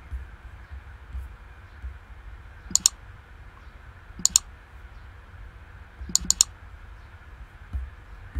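Computer mouse clicks sound in quick pairs and triplets at three separate moments against a low, steady room hum, crisp and close with no talking.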